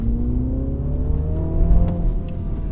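A MINI John Cooper Works Countryman engine hums steadily with a rising whine, revving slightly higher partway through, close and fairly loud with no talking.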